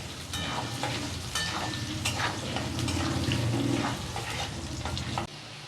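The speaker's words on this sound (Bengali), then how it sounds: "আলুটা ভাজা হয়ে গেছে, নামিয়ে নিচ্ছি।" Potatoes frying in a pan make a steady close sizzle with frequent scraping stirs, loud and continuous until it drops off abruptly near the end, with no voices.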